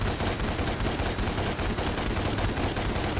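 Sustained rapid gunfire in the Devil May Cry game, a loud, steady stream of shots that runs unbroken for a few seconds with no voices.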